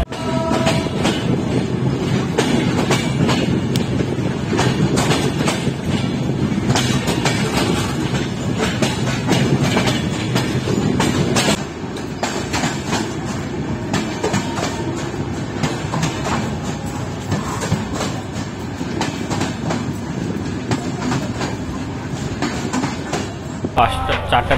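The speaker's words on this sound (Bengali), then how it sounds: "পঞ্চগড় এক্সপ্রেস এসে দাঁড়াইলে হচ্ছে জয়পুরহাট রেলওয়ে স্টেশনে।" The Panchagarh Express rolls into Joypurhat railway station in Bangladesh, with steady rumbling and clickety-clack of wagons, slowing partway through, a brief faint horn and wheel squeal, and a voice speaking over the loud rail noise.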